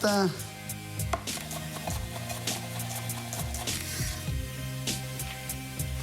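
A kitchen knife chops shallot finely with quick, regular taps on a cutting board. The chopping is close and repeated steadily, with background music running underneath.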